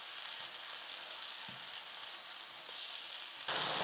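Chopped tomatoes and softened onions sizzle steadily in a hot pan, a continuous close frying hiss that swells brighter and louder near the end.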